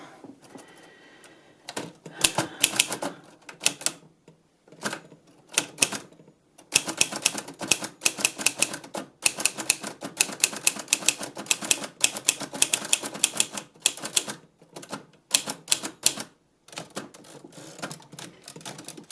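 An old manual typewriter with a very hard platen clacks loudly in rapid bursts of keystrikes, separated by short pauses and occasional carriage movements, close and dry with no voices.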